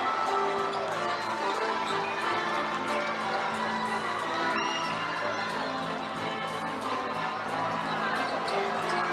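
An arena crowd cheers and shouts at a Lehigh Legends vs. Albany basketball game at the PPL Center, a dense, steady roar with whoops and a ball bouncing beneath it.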